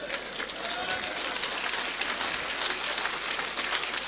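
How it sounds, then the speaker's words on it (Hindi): An indoor audience claps together in a dense, even patter of many hands, steady and moderately loud, holding at one level for a few seconds with no voices over it. "तालियां बजा रहे हैं"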